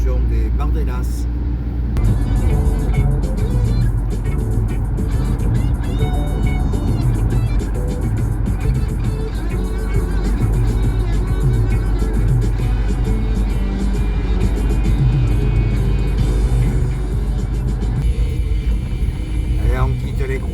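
Camper van cruising along a road toward the Bardenas, with a steady low engine and road drone running throughout and a person talking over it.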